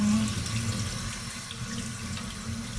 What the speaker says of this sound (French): maintenant, on va tout simplement rincer le poisson